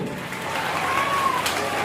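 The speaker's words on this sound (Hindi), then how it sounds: "ऐसी तालियां जोरदार होती हैं" Audience applause at the inauguration of the Sandipani school in Chandla: steady, dense clapping from a crowd that holds at an even, moderately loud level for the short stretch.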